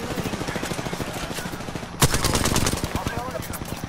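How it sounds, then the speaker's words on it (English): Automatic gunfire in a video game strikes the player, a steady rapid rattle of shots under game sound that swells into a louder, denser burst of fire partway through. "I'm getting shot by the other team."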